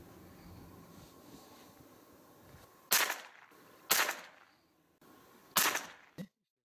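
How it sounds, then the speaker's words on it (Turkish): Three sharp rifle shots fired at a 10-metre range while zeroing a newly mounted scope, each a loud crack with a short decay, spaced about a second or two apart over faint wind and background noise. "Şimdi 10 metreden silahı sıfırlayalım."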